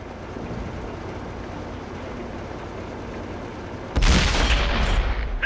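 Tank cannon of an AMX M4 mle. 49 firing in World of Tanks: a steady engine rumble breaks into one sudden loud blast that rings on with a rumbling tail.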